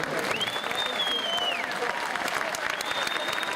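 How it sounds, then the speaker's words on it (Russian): Sustained audience applause fills a Nowruz spring celebration in Moscow, a dense steady wash of clapping throughout, with a faint whistling tone gliding above it. "Да, можно аплодировать, можно аплодировать."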